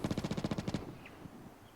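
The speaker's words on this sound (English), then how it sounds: "you can still hear him firing with his MG3 at somebody who was across the valley" An MG3 machine gun in the video game Vigor fires a rapid burst of about ten shots across a valley, then stops, leaving a faint tail and quiet ambience.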